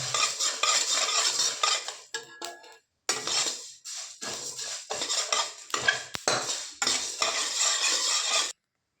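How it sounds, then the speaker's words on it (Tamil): Spices dry-roast in a pan on a low flame for temple-style puliyodharai, stirred with a spoon in repeated scraping, rattling strokes up close, broken by a few short pauses, with no talk. "ஸ்டவ்வை சிம்மில் வச்சு வறுத்துக்கிறேன்"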